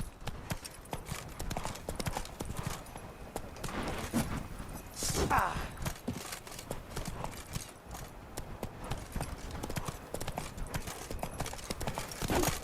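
Horse hooves clip-clopping steadily at a trot in The Witcher 3 video game, a continuous rhythmic patter with game ambience and occasional voices.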